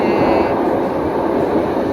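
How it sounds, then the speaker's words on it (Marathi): A Toronto subway train arrives on the opposite track of an underground station, giving a steady, loud rumbling roar with a faint high whine early on. "अशी ट्रेन येते, म्हणजे ही आहे सबवे"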